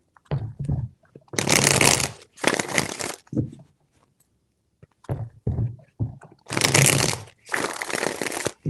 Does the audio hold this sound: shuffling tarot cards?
yes